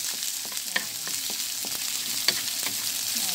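Onions fry in a pan for Chinese marinated chicken, giving a close, steady sizzle broken by repeated spatula scrapes and clicks in a loose rhythm, with no talking.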